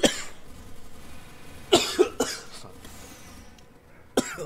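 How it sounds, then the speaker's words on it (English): A person coughs in several short, harsh bursts at close range, with pauses between them and a quiet room behind, while playing the video game Team Fortress 2. "if I'm coughing"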